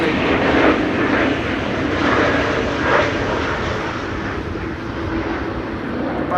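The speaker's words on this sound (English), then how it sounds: "The pilot of ITA landing here without any issues." Airliner operated by ITA landing at Amsterdam Schiphol during high winds in a storm, a steady loud engine roar blended with wind rumble and no talk.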